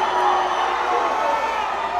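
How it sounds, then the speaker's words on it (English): The Spearman home crowd at a high school basketball game roars in a loud, sustained wash of cheering and shouting that fills the gym, with a commentator's voice running over it. "we're hearing that here from the Spearman crowd"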